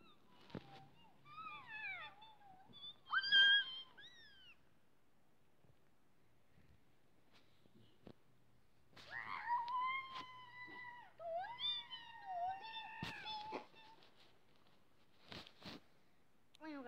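A female kitten meows indoors in two bouts: a few short, rising-and-falling cries near the start, then a longer, insistent string of meows after a quiet pause, fairly close.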